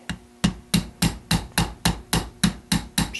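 Light hammer strikes tap an oversized non-rotating trigger pin into a gun receiver, about ten sharp, evenly spaced metallic taps at close range with no talk.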